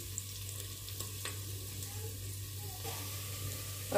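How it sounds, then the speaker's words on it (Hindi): Onions frying in a pan, a soft, steady sizzle with a low background hum and a few faint clicks, ending in a louder burst of noise. "अभी इधर प्याज भून लेते हैं"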